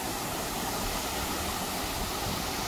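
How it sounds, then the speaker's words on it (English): A powerful waterfall roars close by, a loud, unbroken rush of falling water with no other sounds cutting through. "I'm at a waterfall"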